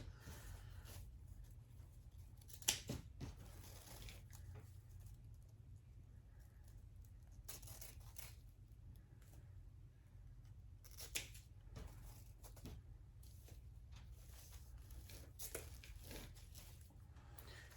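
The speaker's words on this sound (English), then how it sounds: "And I'm using the wrong scissors." Scissors snip at ribbon or decorative material while a Valentine's wreath is assembled, giving a series of short, faint cuts scattered over a quiet, low-humming room.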